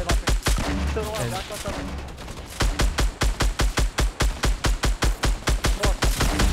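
Rapid gunfire and grenade launcher shots in the video game Fortnite Battle Royale, loud evenly spaced bursts that begin in a jumbled volley and settle into a steady repeating rhythm, with a voice talking briefly early on.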